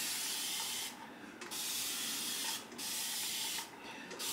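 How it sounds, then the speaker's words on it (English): A handheld spray bottle mists water onto curly hair in three long, steady hissing bursts separated by brief pauses, close and fairly loud with no talking. "When I tell you this spray bottle was one of the best purchases of 2021"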